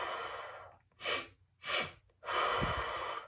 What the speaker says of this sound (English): we're gonna be breathing twice in through our nose and one long exhale through our mouth